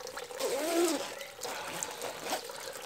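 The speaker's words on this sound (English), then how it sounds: "See how much it's dripping? It just soaked up so much water the second time." Water trickling and dripping from soaked alpaca wool clothing, a continuous close, splashy dribble with a few stronger gushes and no speech.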